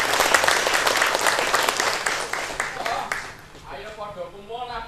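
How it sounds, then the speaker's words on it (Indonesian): Applause at a community arts event in Rembang honoring a local arts group, a dense burst of many hands clapping that gradually thins out and fades as a voice begins talking over the tail. "kita beri tepuk tangan yang meriah dulu untuk Pondok Seni Turus Gede Rembang"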